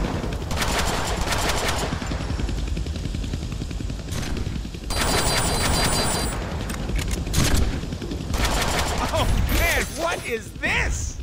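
A big gun in the Deadpool video game fires in sustained heavy bursts with mechanical clatter and booms, dense and loud throughout, with a character's voice speaking over it.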